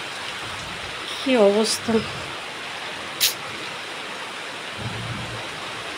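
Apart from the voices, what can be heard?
heavy rain with thunder, water leaking through a window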